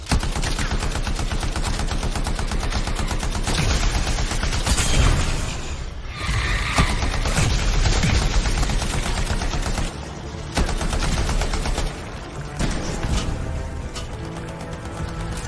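Gunfire in the video game Anthem rattles in rapid automatic bursts and repeated shots, loud and nearly continuous, with brief pauses between volleys and mechanical clatter underneath.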